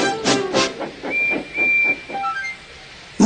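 A steam locomotive whistle sounds in several loud, close blasts with breathy hiss between them. The pitch wavers and the notes fade toward the end.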